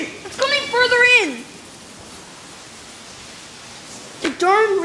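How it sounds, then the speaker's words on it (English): Steady rain from a large Colorado thunderstorm hisses throughout, while voices exclaim over it near the start and again at the end. "The darn rain."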